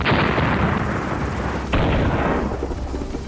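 An MH-60 Seahawk naval helicopter of the Indian fleet at sea gives off a loud, continuous rotor and turbine roar. The dense noise surges once midway and carries no speech.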